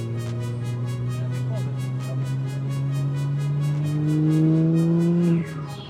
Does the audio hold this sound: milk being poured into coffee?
no